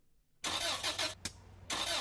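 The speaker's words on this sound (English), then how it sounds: "That's the sound of your car about to cost you a lot of money." A car engine cranks and turns over in short, loud bursts, a rough mechanical churn that cuts out briefly and resumes, presented as a sound effect in a radio advertisement.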